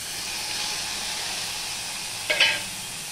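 Ginger with turmeric and salt sizzles in a hot pan for a no-onion, no-garlic vegetable dish, giving a steady frying hiss. A short, sharper burst of sizzle near the end suggests stirring or something added.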